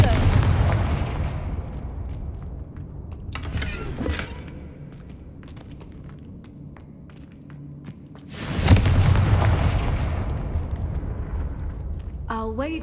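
Fiery Confringo spell explosions in Hogwarts Legacy, two loud booming blasts several seconds apart that each roll off into a fading rumble, with a voice speaking between them.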